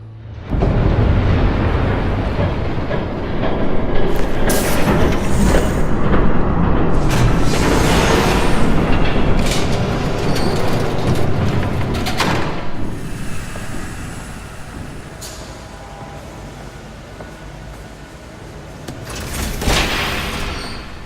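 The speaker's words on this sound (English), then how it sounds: "There's a train coming. Take cover." A train thunders past in the Batman Telltale video game, a loud, rushing roar with hissing bursts and booming surges that fade toward the end, heard alone without talk.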